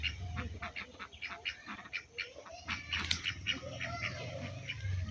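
A duck on a village pond gives a run of rapid nasal quacks and honks, fairly close and repeating in uneven bursts over a low background hum.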